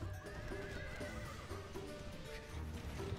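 Mongolian horse archers in the medieval strategy game Medieval II: Total War give repeated whinnies and neighs over a steady clatter of hooves, a busy cavalry ambience at moderate, even volume with no talking.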